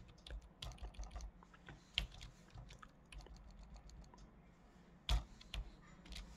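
Numbers typed on a computer keyboard, a sparse run of soft, close key taps with a few louder presses, fairly quiet against a low background hum.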